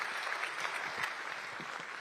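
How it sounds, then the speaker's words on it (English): Applause from a summit audience for a finance leaders' panel, a brief burst of many hands clapping at an even, moderately distant level that fills the whole moment. "So let's give them a big round of applause."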